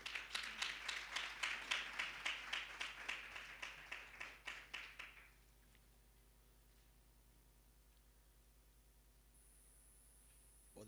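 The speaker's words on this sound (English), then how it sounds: "let's give them a round of applause." An audience at an economic development fund report launch claps for about five seconds, steady and fairly close, before the applause dies away into a quiet room.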